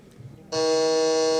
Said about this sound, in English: Please try your buzzer, Rohan.